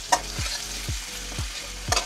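Sliced bitter gourd (ucche bhaja) sizzles steadily in a pan while a spatula stirs it, giving a rhythmic scrape roughly every half second, close and clear, with no voices.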